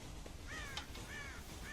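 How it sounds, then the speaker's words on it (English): Crows caw repeatedly in Red Dead Redemption, a few harsh calls spaced across a steady low background rumble, moderately near with no talking. "God damn crows!"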